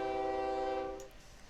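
A train horn from the OpenTTD transport game sounds as a train passes, a steady tonal blast that fades out after about a second, with no talk over it.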